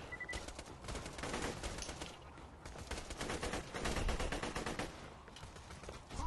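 Rapid automatic gunfire rattles in the video game Borderlands 2, dense continuous bursts with brief dips, fairly quiet overall.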